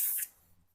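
A short hiss of care spray onto an MPS pistol during cleaning, one bright burst of about a quarter second that trails off into quiet handling noise.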